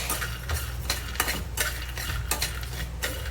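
Roasted chickpeas tossed in a hot pan make loud, rhythmic scraping and rattling as they are stirred, about every half second, over a low hiss. No voices.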